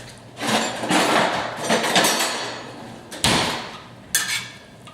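Chopped vegetables and sun-dried tomatoes tossed together in a bowl, several bursts of rustling, clattering mixing with sharp knocks of the utensil against the bowl.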